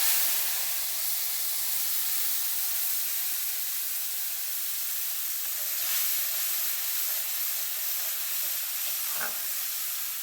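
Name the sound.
mustard paste added to hot oil, sizzling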